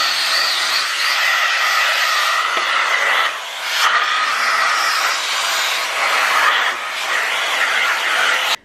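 A hoover sucks fluff out of a sewing machine, a steady loud whooshing drone that holds for several seconds with slight changes in tone and cuts off abruptly at the end.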